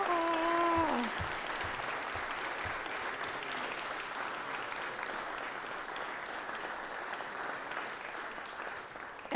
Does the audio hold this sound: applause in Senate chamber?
yes